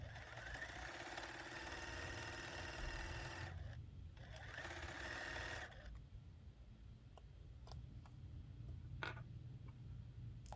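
A sewing machine runs in two bursts of steady whirring stitching as a long quilt block strip is seamed, close and moderately loud, then stops, leaving quiet room noise and a few faint clicks.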